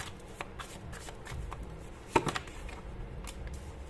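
Tarot cards shuffled by hand, a soft continuous riffling with a few sharper snaps midway, close and fairly quiet, no voice.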